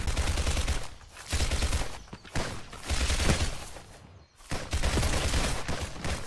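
MP5 gunfire in a video game comes in loud, dense automatic bursts of several seconds each, separated by short gaps, with no talk over it.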